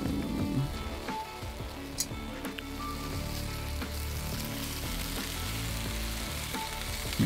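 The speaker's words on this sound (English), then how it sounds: "Salmon fillet. Fry 60 seconds each side." Salmon fillet sizzling and frying in a pan inside the Cooking Simulator video game, a steady dense crackle running throughout with a few brief clicks and clanks on top, close and fairly loud.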